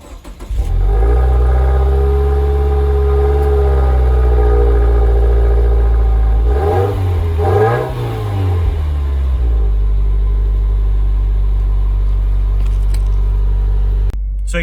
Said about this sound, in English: Let's get a quick cold start.